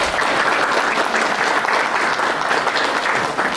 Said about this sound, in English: I really would like for everyone to give Mr. Milo Garza a big round of applause